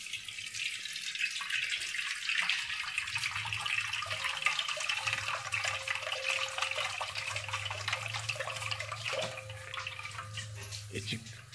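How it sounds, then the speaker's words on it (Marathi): Liquid pouring and trickling from a cooked crab during a home-style crab curry preparation, a steady splashing stream with faint drips, heard close under a low background hum. "अशा पद्धतीने पाणी काढायचं."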